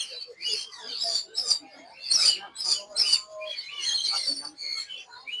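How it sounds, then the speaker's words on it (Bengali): Caged lovebirds at a pet bird market chirp in quick, bright bursts of tweets, fairly close and continuous, with busy market voices murmuring underneath. "লাভবার পাখি, এই যে"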